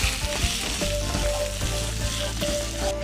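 Chicken wings frying in a pan, a loud continuous close sizzle with occasional spatula scrapes as they are stirred.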